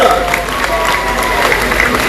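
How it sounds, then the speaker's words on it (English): An audience at a SeaWorld Florida dolphin show applauds in the stands, a loud, steady mass of clapping with crowd murmur and voices mixed in. "Give yourself a round of applause."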